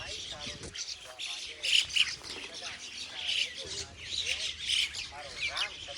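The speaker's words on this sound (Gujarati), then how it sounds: "આ આપણા દીપેશભાઈ છે જે ચકલાઓને દાણા નાખે છે." Sparrows being fed grain chirp and squawk in quick, overlapping bursts close by, while a person talks over the busy chatter.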